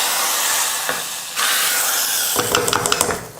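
Mustard seeds, urad dal and curry leaves tempering in hot oil for sambar, a bright sizzling hiss that surges loudly as the leaves drop in, followed by rapid crackling pops near the end.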